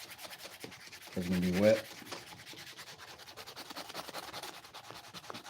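Sandpaper rubs over a wetted surface in a short burst of steady back-and-forth scraping, fairly close and loud, then stops while a person talks over quieter background.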